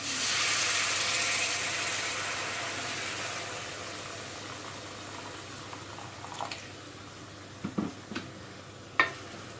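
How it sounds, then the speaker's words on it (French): Boiling water is poured over tomato paste in a hot pan, bursting into a loud, broad hiss that gradually fades to a softer bubbling simmer, with a few light utensil clicks near the end. "Je vais ajouter l'eau bouillante."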